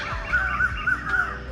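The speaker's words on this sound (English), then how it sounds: "Just listen to the sound of the birds." Crows caw repeatedly over a steady outdoor background, four or five harsh calls spaced across the moment, moderately near.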